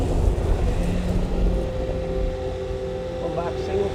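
A Bobcat machine travels in two-speed mode, giving a steady rumbling engine and drivetrain drone with a tonal whine throughout, fairly close and continuous, with a voice talking over it.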